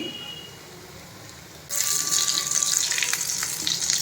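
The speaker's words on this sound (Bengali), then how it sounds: "এই বড়াটা ভাজতে ভাজতেই এত সুন্দর একটা ফ্লেভার আসছে" Bora fritters fry in hot oil over a medium flame, a low hiss that swells into a louder, crackling sizzle partway through, close and continuous with no voices.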